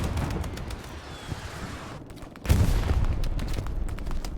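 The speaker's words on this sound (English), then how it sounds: "This artillery, by the way, is pretty devastating." Artillery fire in the Hell Let Loose video game, a heavy boom landing midway through a crackle of distant gunfire and rumbling battle noise, with no voices.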